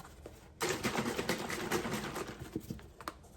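Beef broth poured over a cheesy beef and cabbage casserole, a sudden soft splashing patter that starts abruptly and continues unevenly with small drips, close and fairly quiet.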